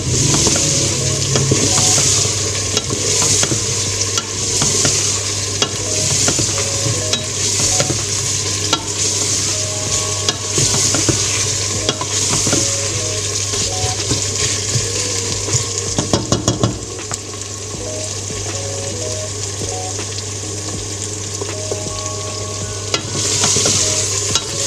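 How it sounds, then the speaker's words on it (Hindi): Ginger, garlic and tomatoes stirred and frying in a pot for chicken biryani, a steady close sizzle with continuous scraping stir strokes throughout, no talk. "साथ ही टमाटर डाल देते हैं। अब इनकी बुनाई करनी है 2-4 मिनट।"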